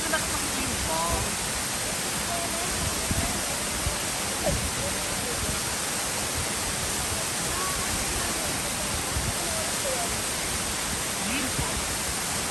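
A waterfall near Hope, Canada gives off a steady, close broadband roar of rushing water that stays even throughout, with faint voices now and then.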